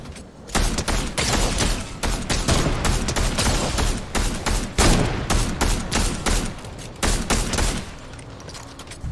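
Video-game DMR rifle gunfire in rapid sharp bursts, with dense, loud shots filling the stretch and only brief gaps between volleys, close and dominant.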